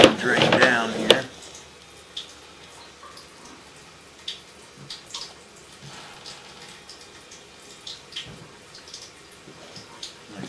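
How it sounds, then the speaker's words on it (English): Water rushes through a pipe past an inspection camera at 134 S Main St., Crittenden, KY: a loud, brief gushing burst at the start, then faint drips and trickles in a quiet, echoey pipe. "A pretty big rush of water."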